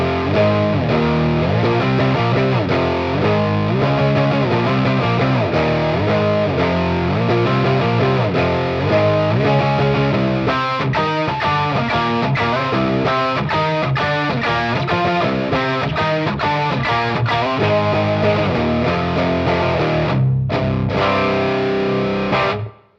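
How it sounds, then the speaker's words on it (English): Electric guitar driven through a Tai Ji Drive pedal, a budget Zendrive clone, with the gain cranked for thick, fuzzy high-gain distortion; loud sustained chords and riffs play continuously, then cut off abruptly at the end. "Now we'll crank up the gain and go for a nice big fuzzy thing."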